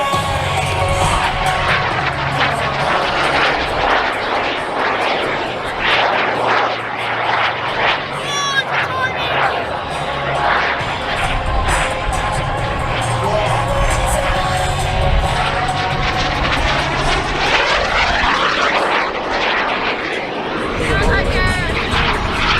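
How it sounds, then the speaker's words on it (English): A mini jet flying aerobatic manoeuvres such as a loop at a military airshow, its engine a loud continuous roar rising and falling as it passes, with crowd murmur and an announcer's voice underneath throughout. "Brings the jet back to show center for the mini jet version of the Avalanche Loop."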